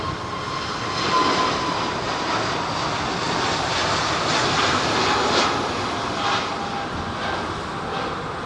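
A jet airliner departs from an intersection at Heathrow Airport, its engines a steady, broad roar that swells slightly and holds throughout at a moderate distance, with no voices present.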